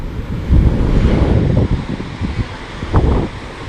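Water rushes under pressure over rock formations below a dam at the Palasdari waterfall, giving a steady, loud broadband roar with surging bursts and some wind buffeting on the microphone.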